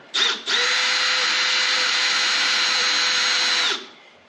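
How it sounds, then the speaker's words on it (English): A power drill boring a pilot hole in metal on a 1964 Ford Falcon whines steadily for about three seconds after a brief initial burst, then spins down; loud and close, no talking. "I'll go in and drill a pilot hole in there."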